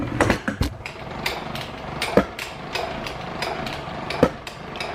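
An old steam-powered machine shop machine has its tool slide cranked out by hand, giving irregular metallic clanks and ratcheting knocks with a few sharper hits over a steady mechanical hum, close by, with no talking.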